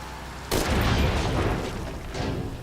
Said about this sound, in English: so I had to blow up this one instead